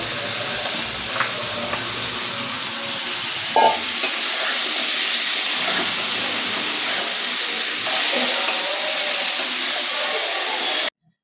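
Onions, green chillies, curry leaves and plenty of garlic sautéing in a pan for shark puttu, a loud continuous sizzle and hiss with occasional scrapes of stirring, running steadily before cutting off abruptly.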